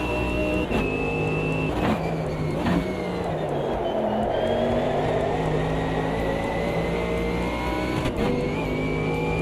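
A race car engine howls through a lap in a community racing video game, pitch rising steadily through the gears with sharp drops at each shift, loud and close throughout.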